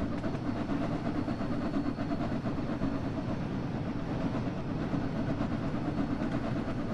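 Steam locomotive 60106 Flying Scotsman runs on the West Somerset Railway as it slows, giving a continuous, fairly loud rumble of wheels and carriages that holds steady throughout with no talking.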